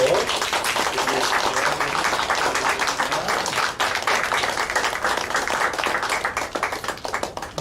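A church congregation claps for its Sunday school teachers during a Teachers' Sunday service, a continuous, full round of applause close by that tapers slightly at the end.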